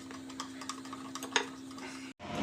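Soft rhythmic ticking and swishing of batter being mixed in a bowl, close and quiet under a steady hum, ending with a brief drop to silence.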